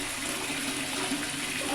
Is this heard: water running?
yes